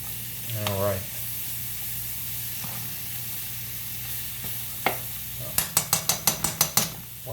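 Diced pancetta frying in a pan for carbonara gives a soft, steady sizzle under occasional stirring, with a scrape early on and a quick run of sharp metallic taps near the end.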